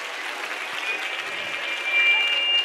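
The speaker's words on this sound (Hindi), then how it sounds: "एक बार जोरदार तालियों से स्वागत करेंगे।" Audience applause welcoming a spiritual guest at a religious gathering, a continuous wash of clapping that swells slightly toward the end.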